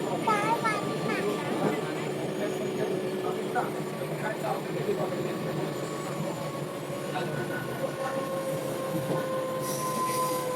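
A passenger train running on rails, a steady close rumble of wheels and carriage with squealing wheel tones and faint clickety-clack throughout, heard from inside with some voices.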